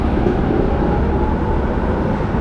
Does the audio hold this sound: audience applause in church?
no